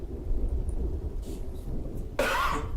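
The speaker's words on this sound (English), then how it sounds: "Cough." A single sharp cough bursts out near the end, breaking a quiet stretch of low background rumble.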